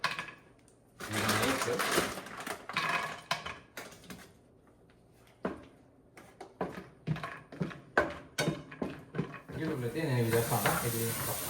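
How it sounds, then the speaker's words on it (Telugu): Cashew nuts frying in hot oil for a homestyle chicken mandi, sizzling loudly in bursts with stirring and clattering of the pan, broken by short quiet gaps, then a steady sizzle at the end. "ఇప్పుడు ఇంకా మన జ్యూసీ మండీ కోసం కొన్ని క్యాష్యూ నట్స్ ఫ్రై చేసుకుందాం"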